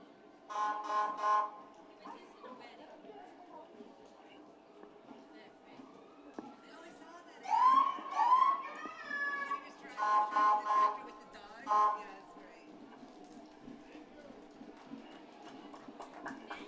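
Short wailing and yelping police siren bursts sound in intermittent blasts over a murmuring crowd at a Fourth of July parade in Woodsville, New Hampshire, fairly loud and close, with gaps of ambient noise between.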